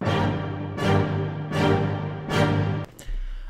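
Tarot cards riffle in four quick, rhythmic papery bursts, close and crisp, followed by a soft tap as the deck settles.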